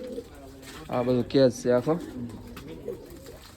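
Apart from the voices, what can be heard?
pigeons cooing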